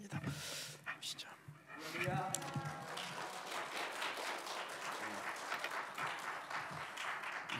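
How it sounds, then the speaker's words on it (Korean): Church worshippers applaud as a missionary comes forward at a Sunday service, faint clapping first, then steady, dense applause that swells and holds, with scattered voices mixed in. "우리 목사님에게 뜨거운 격려의 박수 해주시기 바랍니다"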